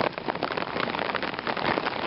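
Rain patters steadily and densely on a hammock tarp from close by, with no voices.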